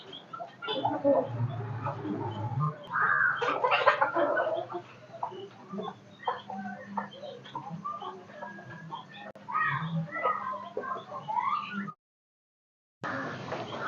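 Free-range country chickens on a small poultry farm cluck in short bursts outdoors, with occasional louder calls standing out over steady background noise; after a brief drop to silence the sound resumes.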